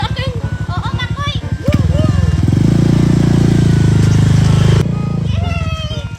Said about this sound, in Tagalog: Tara, Makoy, magmotor na tayo.